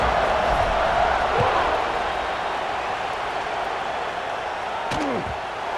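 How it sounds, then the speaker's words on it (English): A stadium crowd buzzing in the College Football 26 video game, a broad steady roar of many voices after a score, with a couple of brief sharp sounds near the end. "this crowd is buzzing after that last score."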